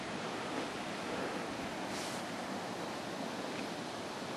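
A river runs past a big gravel bar at Big Bend, running a little high, as a constant broad rushing wash that stays steady throughout.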